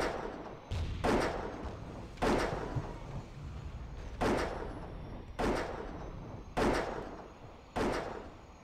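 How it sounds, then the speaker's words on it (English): Plane under fire in the Airfix Dogfighter video game: a run of sharp, heavy thudding impacts lands roughly once a second, each a loud punchy hit over a steady low engine rumble, with no talk. "We are getting shot at a fair bit."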